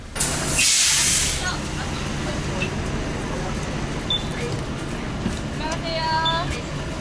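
A small bus at the Nami Island bus station lets out a loud burst of air-brake hiss, then settles into a low idling drone with faint chirps and voices nearby.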